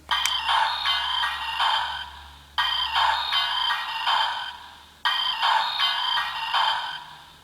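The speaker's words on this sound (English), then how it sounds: "So first up, we have the ringtone." A Kamen Rider Build Bike Henkei DX Build Phone toy plays its ringtone three times in a row, each a bright electronic trill lasting about two seconds, separated by brief gaps, heard close up.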